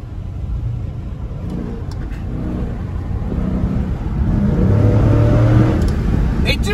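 A Dodge Challenger R/T Scat Pack with a 6.4 HEMI V8 accelerating hard, its deep engine roar building and rising in pitch over several seconds, heard close with wind buffeting and no clear speech.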